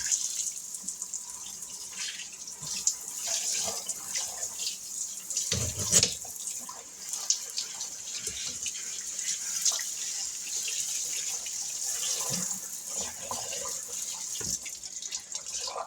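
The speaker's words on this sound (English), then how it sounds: "Let's give that a good rinse." Tap water runs steadily into a farmhouse stone sink during a rinse, a continuous close splash with brief surges and clatter partway through.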